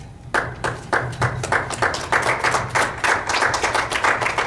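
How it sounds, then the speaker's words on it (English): Audience at a Pahrump congressional district debate claps in a steady, fairly loud burst of applause, individual hand claps distinct and rhythmic throughout, with no talking. "Please hold your applause."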